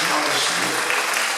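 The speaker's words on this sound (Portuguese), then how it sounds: "Umas salvas de palmas para Jesus, que merece." Congregation clapping in a church during worship, a loud, dense and steady wash of many hands, with a voice speaking over it.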